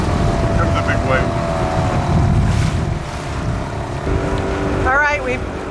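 Small motor dinghy pushing through surf toward a beach off Cabo, Mexico, its steady outboard drone mixed with wind and crashing waves, while a voice talks briefly near the end.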